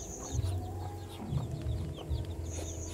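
A farm hen clucks in short, repeated bursts close by, with a rooster-like call and other fowl faintly in the background of an outdoor poultry yard.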